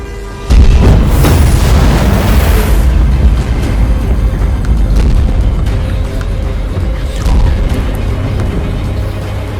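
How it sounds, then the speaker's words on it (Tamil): A loud explosion booms in a Tamil action film at about half a second in, with a deep rumbling blast that rolls and sustains for several seconds amid continuing low crashes and turbulence. "வெடிச்சதும் கேக்குது தம்பி."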